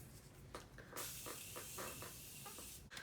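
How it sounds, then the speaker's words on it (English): Morphe setting spray misted onto a face, a sustained close hiss of aerosol-like spray lasting about two seconds, preceded by a few soft clicks and handling noises, with no talking. "now I'm going to go ahead and spray my face with the Morphe setting spray"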